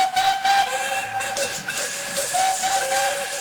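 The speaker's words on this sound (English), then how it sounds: "This was the signal for a chorus of whistles from engines large and small." A chorus of steam engine whistles from engines large and small shrills on together in a loud, steady, overlapping blast, with hissing steam beneath and no voices.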